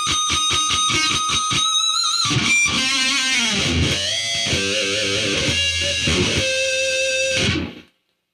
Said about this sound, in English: This next technique I want to show you is called a pick harmonic, or squeal.